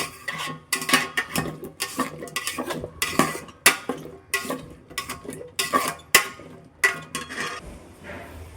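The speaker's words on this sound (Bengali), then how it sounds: "গাজর দেওয়ার পর নাড়াচাড়া করবো হালকা" Potatoes and carrots for vegetable khichuri are lightly stirred in a pot, with repeated clinks and scrapes of a utensil against metal coming in quick irregular bursts, close and fairly loud.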